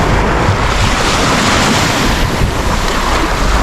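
Surf breaking on the Caspian Sea shore rolls on as a steady, loud wash with gusty wind buffeting the microphone, and no voices are heard.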